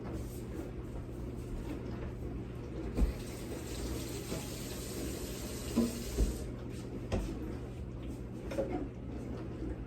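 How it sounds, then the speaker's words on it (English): A little tap water poured into the bottom of a baking pan holding acorn squash, a soft steady trickle over a low hum, with a few light knocks and clinks. "I'm going to put a little bit of water down into the bottom of this pan"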